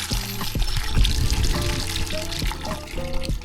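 Water gushing from a hand pump at a cottage on a camping spot in Lian, Batangas, a loud close splashing pour that runs throughout with metallic creaks of the pump handle.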